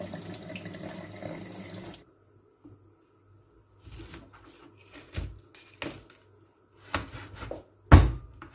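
A tap runs steadily for about two seconds while vegetables are washed for ginataang kalabasa. Quiet knocks and splashes follow, with one louder clatter near the end.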